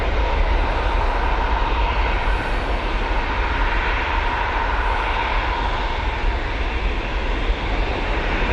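A large Airbus A380 jet at Manchester Airport produces a loud, steady engine roar that fills the scene continuously without break or voices.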